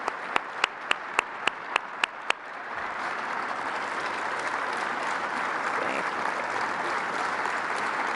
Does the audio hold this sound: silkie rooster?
no